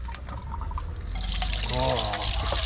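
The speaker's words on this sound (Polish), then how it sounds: "Tam woda się w międzyczasie cały czas wylewa." Grey water drains from a camper van, a continuous trickling and pouring under people talking.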